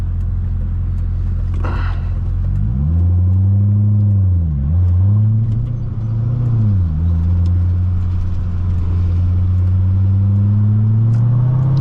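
A 2006 Chevrolet Corvette convertible with manual transmission accelerating hard, its V8 rumble climbing through several revs with brief dips at gear shifts, loud and close from inside the cabin.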